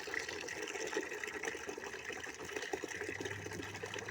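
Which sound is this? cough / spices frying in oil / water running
water running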